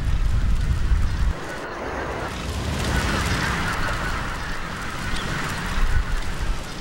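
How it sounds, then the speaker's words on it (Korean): A large wintering flock of Baikal teal in Korea, agitated by a raptor, sends up a dense, continuous wash of calls and wingbeats, loudest at the start and steady after, with no voices. "맹금류가 나타나자 가창오리들이 동요하기 시작한다."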